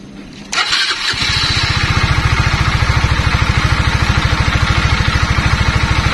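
A Honda CBR150 motorcycle starter whirs briefly, then the engine catches and settles into a steady, rapid idling putter, close and loud. The regulator-rectifier is overheating and the battery keeps failing.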